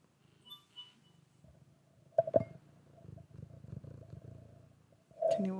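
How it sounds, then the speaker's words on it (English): A cat purrs softly and close in a low, rumbling texture, broken by a few brief sharper noises, faint overall. "Can you all hear her purring?"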